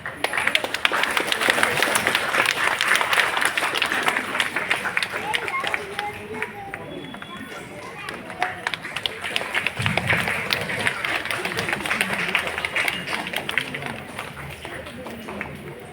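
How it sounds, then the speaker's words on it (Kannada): A crowd at a school Krishna costume contest for Janmashtami claps loudly and steadily for a child, dense applause running throughout with voices mixed in. "ಬರ್ಲಿ ಜೋರಾದ ಚಪ್ಪಾಳೆ ಶ್ರೇಯಸ್ಗೆ"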